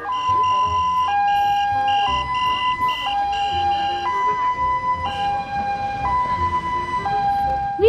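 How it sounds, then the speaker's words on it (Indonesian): A toy ambulance siren wails continuously, alternating between two steady electronic tones about once a second, loud and close with faint background noise. "Wah lihat teman-teman, ada juga mobil ambulans."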